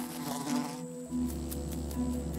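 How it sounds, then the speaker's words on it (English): A female oil bee buzzes in a steady, close drone that briefly dips and then resumes louder, with a few faint clicks above the hum and no voices. "A female oil bee has ridiculously long front legs, much longer than the rest of her body"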